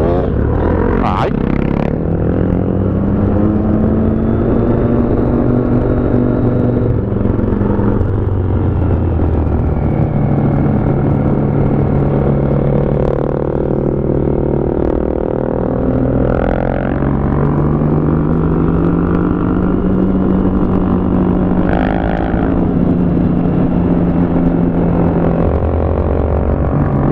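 Motorcycle engines rumble and whine steadily throughout, revs rising and falling as bikes ride past, with a few faint voices underneath.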